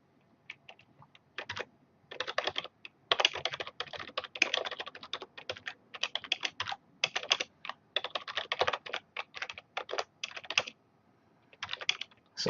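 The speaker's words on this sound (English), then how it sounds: "So literally just typing up the text I need" Fast, irregular bursts of key clicks on a computer keyboard as text is typed up during game development work, close and crisp, with short pauses between runs and no talk.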